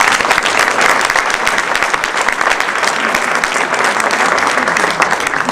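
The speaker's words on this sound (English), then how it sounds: "Let's give them a round of applause." Loud, dense applause from a large crowd at a Maryland Women's Hall of Fame induction event, steady clapping sustained throughout without a break.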